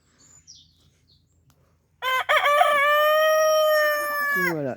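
A farm rooster gives one loud, drawn-out crow close by near a pond, following a quiet stretch with faint bird chirps, and no talking.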